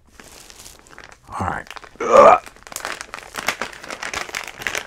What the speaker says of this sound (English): Are you one of these people that don't like the sound of crinkling plastic?